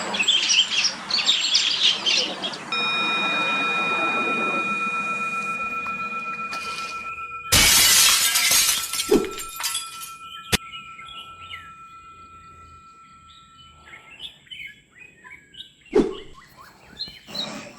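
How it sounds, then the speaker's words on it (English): A Rufous-gorgeted Flycatcher calls in a moist mid-elevation Eastern Himalayan forest, with repeated thin, high chirps and short song phrases over quiet background, joined by other birds and a few sharp knocks. "The Rufous-gorgeted Flycatcher is a charming little bird of the Eastern Himalayas"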